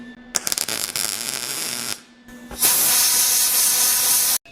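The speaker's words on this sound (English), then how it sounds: "hit it with air to cool it down right away so you don't put too much heat into what you're working with" Compressed air blasts onto a freshly welded turbo downpipe flange in loud, close hissing bursts: a short spurt, a pause, then a longer steady rush that cuts off abruptly.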